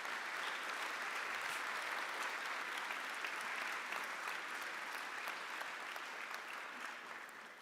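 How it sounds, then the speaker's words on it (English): Sustained applause from a large convocation audience honouring college faculty and staff, a steady dense wash of clapping that holds loud for several seconds before easing slightly at the end. "why don't we take a moment to just applaud their dedication as well."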